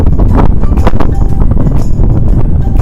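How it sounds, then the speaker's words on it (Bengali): Strong mountain wind buffeting the microphone near Harsil in the Himalayas, a loud, continuous low roar and rumble with gusty fluctuations throughout, drowning out other sounds. "তোমরা হয়তো হাওয়ার শব্দ শুনতে পাচ্ছ"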